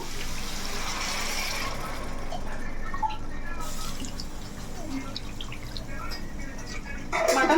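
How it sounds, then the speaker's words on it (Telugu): Water pours steadily into a curry with a continuous wet hiss and occasional drips, close by, lasting several seconds before a clatter at the end. "ఇప్పుడు మనకి ఈ కూరకు సరిపడ్డ వాటర్ అయితే వేసుకుందాము"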